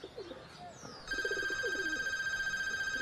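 An old-style telephone rings, starting about a second in and continuing steadily to the end as a loud sustained bell-like trill, preceded by brief speech and a faint bird call.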